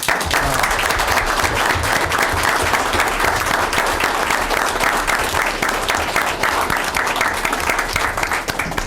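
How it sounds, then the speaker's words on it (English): Sustained applause from an audience at a Murray city meeting, honoring the parks department staff; dense, steady clapping fills the room throughout without a break. "we can recognize you and acknowledge you through clapping"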